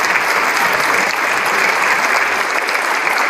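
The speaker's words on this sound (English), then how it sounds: "I think they deserve a round of applause" Dense, steady applause from an audience in a legislative chamber on opening day, sustained and even throughout with no gaps or talk.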